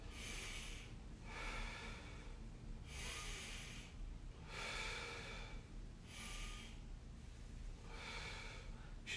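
Slow, deliberate breaths during a back mobility exercise, about five long audible inhale-exhale cycles spaced evenly, soft and close against a quiet low hum.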